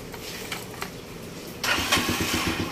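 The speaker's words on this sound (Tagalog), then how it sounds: "Ganyan na po ang katining ang andar ngayon." A freshly overhauled engine, rebuilt after a damaged cam gear and block, cranks and catches, then settles into a steady, close, medium-pitched running beat with no talk.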